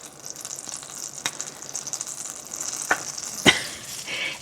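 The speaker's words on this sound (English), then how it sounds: "So to a skillet, we're going to add 2 tablespoons of butter." Salted butter and olive oil sizzling together in a skillet, a soft continuous hiss with a few light clicks and one sharper clatter of a utensil, close and fairly quiet, no talking.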